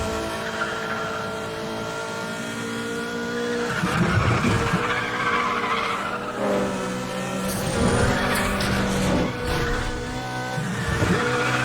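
A BMW racing flat out in Need for Speed The Run, engine roaring and rising and falling with gear changes, with repeated loud tire skids and squeals through the corners, continuous and close with no talking.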